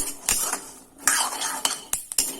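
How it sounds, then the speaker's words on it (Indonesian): Sharp crackles and pops from peanuts dry-roasting in a pan, irregular and close, with a few clinks mixed in. "Ini masih terdengar bunyi peletik-peletik ya."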